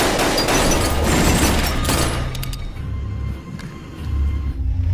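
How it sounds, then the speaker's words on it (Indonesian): Gunfire exchange in a film scene aboard a train: dense, loud bursts of shots and booming impacts over rumbling noise, easing off midway before a renewed rumble. "Alhasil Franco dan Curtis pun terlibat aksi tembak-tembakan."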